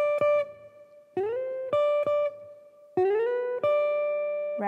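An electric jazz guitar plays a solo lick, clean picked single notes with slides into sustained tones and a few quick repeated phrases, close and clear with no talking.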